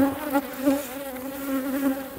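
Honeybees crowd a full hive super, giving off a dense, unbroken droning buzz that holds steady and close throughout, with no voices over it.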